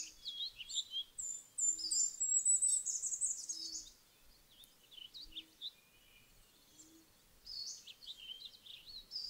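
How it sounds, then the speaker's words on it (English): Birds chirping and twittering in woods by a lake, thin high calls in quiet bursts over near silence, with a soft, faint low hoot recurring at regular intervals. "There are birds in the woods and around the lake, chirping and twittering their songs of joy."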